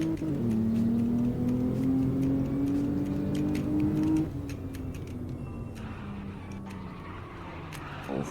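An Alfa Romeo Giulia on drift tires with traction control off revs hard, engine note climbing steadily for about four seconds before dropping and falling away, with faint ticking and tire noise underneath.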